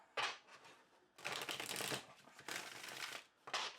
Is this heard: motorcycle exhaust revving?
no